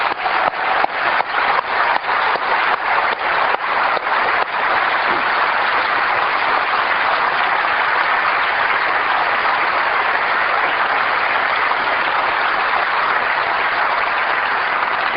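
An audience applauds at a 1999 Apple special event, opening with rhythmic clapping in unison before swelling into a dense, steady wash of applause that holds for about fifteen seconds, with no speech.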